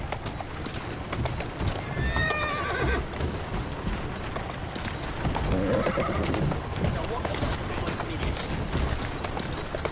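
A horse whinnies clearly in the video game Assassin's Creed Syndicate, with clip-clopping hooves beneath, and a voice speaks briefly over the scene.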